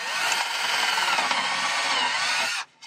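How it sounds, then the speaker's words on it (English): A power drill bores a hole through a wooden overlay drawer front with a slightly oversized bit, a loud continuous whine lasting over two seconds before stopping abruptly. "So I'm going 1/64 larger drill bit."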